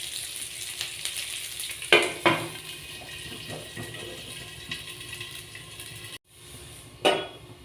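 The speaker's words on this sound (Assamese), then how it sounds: "কঁঠালৰ গুটিকেইটা ভাজা হৈ গৈছে" Jackfruit seeds fry in a covered pan with a steady sizzle, broken by a few sharp clatters and scrapes near the start and again close to the end, with a brief silent gap just before the last clatter.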